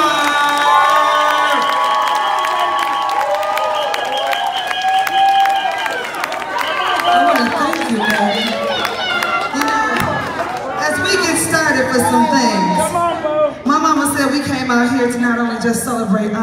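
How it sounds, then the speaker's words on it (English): A lively crowd at a competition cheers, whoops and shouts loudly, with some clapping mixed into the excited noise. "Start clapping, start clapping, start clapping."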